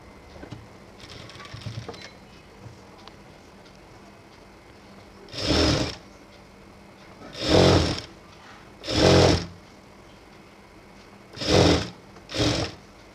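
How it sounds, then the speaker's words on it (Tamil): Sewing machine stitching a star-shaped blouse neckline in five short separate bursts, each about a second long, loud and close, with quiet pauses between them and no talking. "இப்போ நம்ம தைக்கலாம்"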